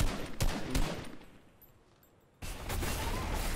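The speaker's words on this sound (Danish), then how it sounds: "Jeg dænger lidt ind derovre. Jeg skyder bare lidt." Bursts of rapid gunfire in a Fortnite match, loud and close, with a couple of sharp shots early, a quieter lull, then sustained heavy firing resuming toward the end.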